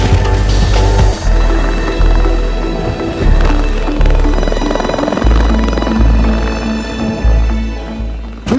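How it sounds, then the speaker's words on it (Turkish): A Sikorsky S-70 Black Hawk helicopter at the Izmir airshow thumps loudly and close with a steady rotor beat, its heavy low pulses repeating about once a second over a constant turbine whine. "Küçüklerimiz daha dün alkışlarıyla eşlik ettiği helikopterlerimizle uçacaktı."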